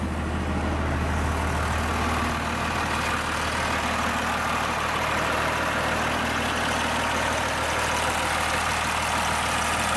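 A pickup truck with a charging fault idles loudly nearby, a steady low engine drone with a constant hum that holds unchanged for the full ten seconds, with no talking.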